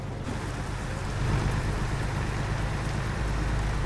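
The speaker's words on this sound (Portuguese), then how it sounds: "Nossa, tá chovendo, hein, tio?" Rain in the American Truck Simulator video game, heard from a Peterbilt truck as a steady broadband hiss of rainfall over a low engine rumble, constant and unbroken with no speech.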